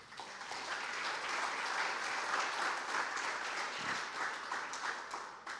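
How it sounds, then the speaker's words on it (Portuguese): A church congregation applauds in steady, sustained clapping that fills the room at constant loudness, with no voice over it. "Aplauda o Senhor."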